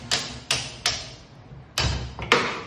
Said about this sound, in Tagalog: pinupukpok ko palabas yung ehe na kumakapit sa engine saka sa frame